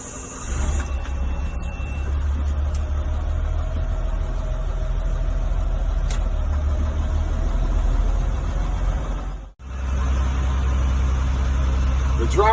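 A school bus engine runs at a steady, loud idle with a deep, continuous low rumble that holds throughout and briefly drops out near the end before resuming.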